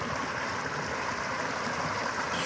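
A flowing mountain stream on a backpacking trail rushes steadily and close, a dense continuous wash of water with no break or voices.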